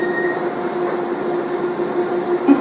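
A Docklands Light Railway train in London rolls along with a steady mechanical drone and faint tonal hum, fairly constant and close, with a brief brighter squeal near the end and no talking.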